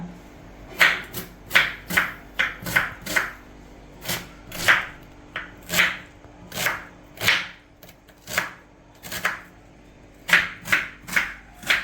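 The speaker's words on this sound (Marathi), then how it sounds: "आता आपण कांदा कापून घेऊ एकदम बारीक कांदा कापायचा" A knife chops onion finely on a board in a regular rhythm of sharp taps, about twenty crisp strikes with brief pauses between clusters, close and clear without talk.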